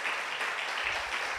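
Brief burst of congregational applause at a church service, a dense wash of many hands clapping at moderate loudness with no voices over it.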